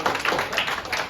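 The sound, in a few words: audience applause for the DJ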